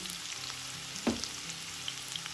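Onion, curry leaves and ginger paste fry in a pan, giving a steady close sizzle throughout, with a brief stirring scrape near the middle.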